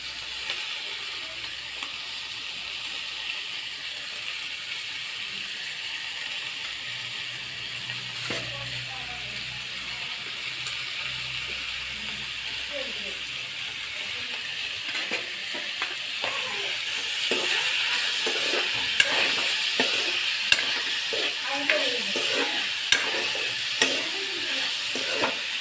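Onion and tomato fry in a pan for a pork dish, giving a low, continuous sizzle that grows busier and crackles more in the last third, with faint background clatter.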